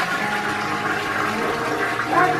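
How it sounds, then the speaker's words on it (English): A household toilet flushes close by in a loud continuous rushing swirl of water, with no talking over it. "as we flush him down his toilet"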